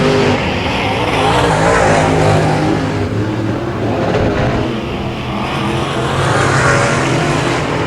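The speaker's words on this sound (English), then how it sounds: "As Doug Ricotta, white flag in the air, looking to pick up his third heat race win of the season." Late model race cars roar around a dirt oval during a heat race, engines droning loudly and continuously with swells as cars pass close, a dense wash of motor noise throughout.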